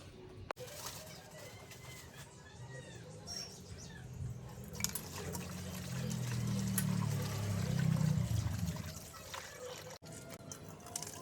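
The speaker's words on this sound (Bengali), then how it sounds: "বাজার থেকে যে মাছগুলো এনেছি সেগুলো এখন ধুয়ে নেব" Water pours and splashes over freshly bought fish as they are washed by hand, swelling louder midway, while birds chirp faintly in the background.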